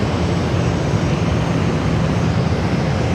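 A Boeing 717 airliner at Sydney Airport during the morning rush gives off a loud, steady broadband engine roar that stays dense and unbroken throughout, with no voices over it.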